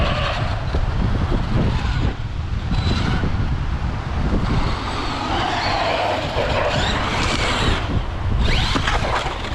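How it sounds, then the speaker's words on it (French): Outcast 4s engine revving in reverse with quick throttle blips, a rough, continuous mechanical roar that rises and falls, heard fairly close with no speech. "en marche arrière on peut reclaquer les gaz direct"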